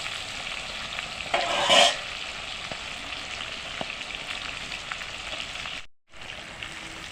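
Prawns frying in hot oil for pickle, sizzling steadily while a ladle stirs them, with a brief louder scrape and splash early on.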